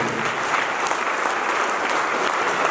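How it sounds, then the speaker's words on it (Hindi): An audience at a stage event, the Neerajana 2025 programme, applauds. The clapping is dense, even and sustained from start to finish, with no voices over it. "अभी मन भर के ताली हो जाएगी जरा उसको"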